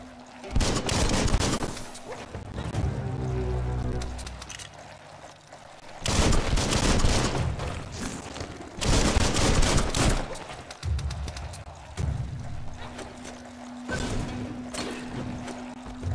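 Bursts of gunfire from the video game Biomutant, several loud rapid volleys separated by short gaps, mixed with game sound effects and a low background hum.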